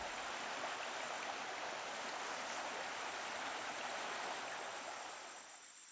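The River San flows through woodland in a continuous, quiet rushing wash of water, with no voices.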